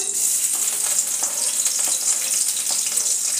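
Finely chopped garlic fries in a couple of spoonfuls of hot oil for a cabbage manchurian, making a loud, continuous close-up sizzle with light stirring and no talking.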